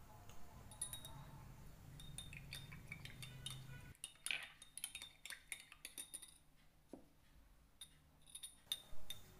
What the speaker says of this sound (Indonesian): saya akan campurkan susu cair dan mentega cair yang sudah dingin beserta 1 kuning